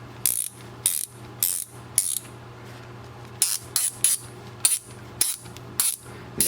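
An Icon 3/4-inch ratchet from Harbor Freight clicks sharply as it is swung, producing short bursts of metallic pawl clicks spaced about half a second apart, close and clear over a low background hum.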